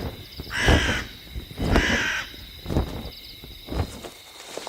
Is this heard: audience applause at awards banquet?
no